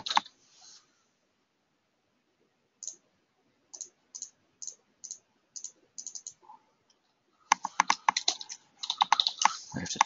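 Typing on a computer keyboard during a webinar: a quick burst of keys, then spaced single taps, then a dense rapid run of clicking, close and clear with no talk.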